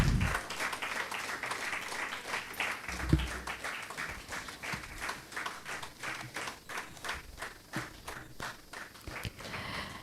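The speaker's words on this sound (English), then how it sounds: "Please join me in a round of applause to celebrate these remarkable individuals and their invaluable contributions to VKRC." Audience applause at a VKRC inaugural alumni meet, a scattered, moderately distant patter of clapping with a few sharper nearby claps, steady for the full stretch.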